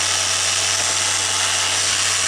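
Steady, high-pitched whirring of a power sander running continuously while sanding the edge of a gasket, with a constant low hum underneath.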